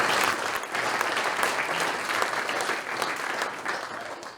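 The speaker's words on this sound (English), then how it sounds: "Please give them one more round of applause." A crowd at an MLK Jr. annual breakfast in Cohasset applauds steadily, a dense wash of clapping that stays loud and even throughout, with no voices rising above it.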